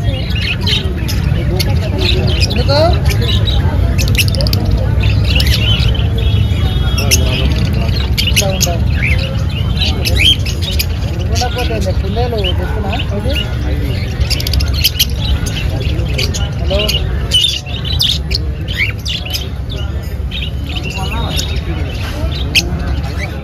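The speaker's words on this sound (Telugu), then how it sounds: "ఈ పిట్టల్స్ అయితే అబ్బా చెప్పద్దు, అసలు గర్ర సౌండ్ వస్తూనే ఉంటాయి" Dense, continuous bird squawks and chirps from many caged birds fill the Erragadda Sunday market, a chor bazaar in Hyderabad, with crowd chatter and occasional traffic underneath.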